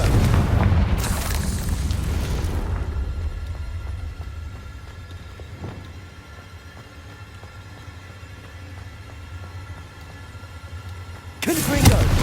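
Confringo blasting spell from Hogwarts Legacy going off as a loud, booming explosion at the start, followed by a long low rumbling tail and a second burst near the end.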